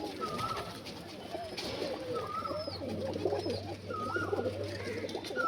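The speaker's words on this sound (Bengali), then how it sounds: "সব রকমের বিরাট লাইনের পায়রা আছে।" Several pigeons coo softly and repeatedly in a pigeon house, amid a murmur of background noise, with low rumbling and faint distant voices.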